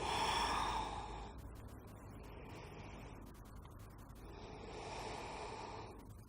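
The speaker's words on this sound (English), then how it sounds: "let's take 5 breaths." Slow, deep yoga breaths during a restorative twist, close and soft: a long exhale fades out, then a pause follows before another gradual breath swells, over faint room noise.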